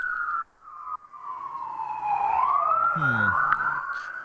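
A police siren wails in a long rising and falling sweep, fairly loud and steady, with a brief low rumble partway through.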